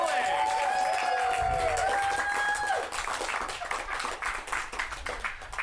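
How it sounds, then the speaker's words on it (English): Audience applause at an improv comedy show after a performer's game, a dense spread of clapping that fills the room and then thins out, with whistled or sung tones and voices mixed in at the start. "give another round of applause to Jay Sterling"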